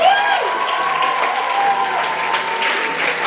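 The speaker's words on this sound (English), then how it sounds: "Can we please give up another round of applause for the amazing show that they just put on?" Audience applause after a stage play, a dense, steady clatter of clapping from a large crowd that holds evenly throughout, with a few voices and cheers mixed in.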